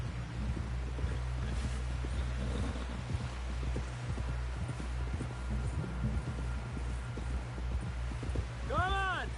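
Steady clip-clop of a horse's hooves at a walking pace in Red Dead Redemption 2, mid-distance and even, with a low rumbling ambience beneath, a short whinny near the end, and people talking over it.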